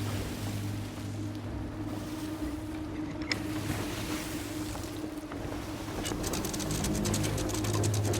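A ship sails across open sea in a video game, with a steady wash of water and wind rumbling beneath low, continuous engine-like droning that swells slightly toward the end, all without any talking.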